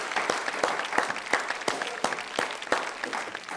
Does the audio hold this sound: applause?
yes